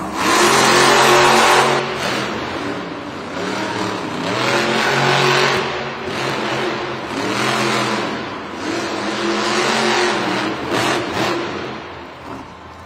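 Monster Jam monster trucks roar at a stadium event in Cincinnati, engines revving hard in repeated surging waves, loud and close with crowd-filled echo throughout.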